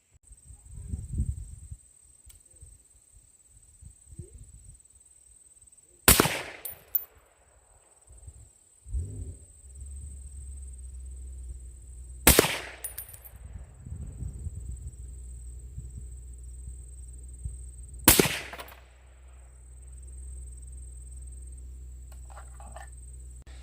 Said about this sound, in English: just took 3 more shots with the Federal Power Shock 150 grain soft point